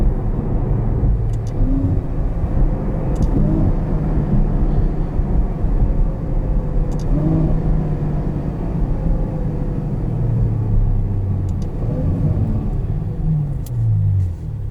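A deep, rumbling V12 engine of a 2020 Ferrari GTC4Lusso roars continuously, swelling and easing as it accelerates, with a heavy low growl and occasional pops, fairly close.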